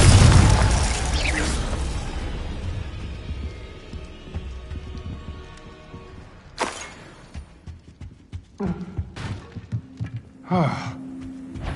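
In Hogwarts Legacy, a Confringo spell explosion gives a heavy booming blast that decays into a long rumbling tail, followed by sharper thuds and crackling impacts of further spell hits.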